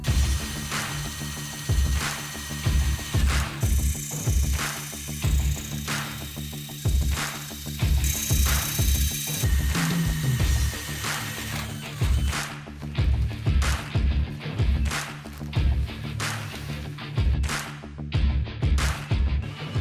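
A DeWalt 20V Max XR drill and impact driver run in a workshop test, giving a long series of sharp, regularly spaced mechanical bursts that stay loud and close throughout, with no voices.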